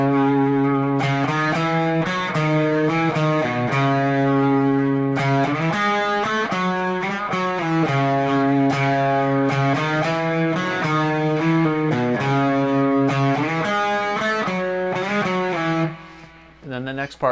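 An electric guitar with gritty distortion plays a repeating melodic riff at full speed in several phrases, loud and close, then stops with a few scattered notes.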